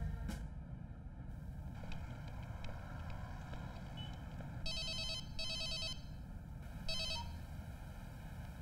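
An electronic telephone rings in several short repeated bursts over a low background hum.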